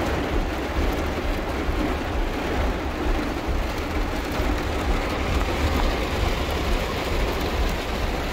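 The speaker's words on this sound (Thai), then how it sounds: "ตอนนี้ฝนตกแรงมากครับ" Heavy rain during a drive to move a vehicle, a loud, unbroken broadband wash of rainfall with a deep rumbling undertone, steady and dense throughout with no voices.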